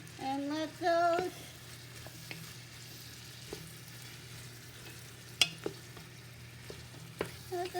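Chopped vegetables for chicken stock cook in a pot with a low steady sizzle, broken by a few soft clinks and stirring knocks, quiet and close.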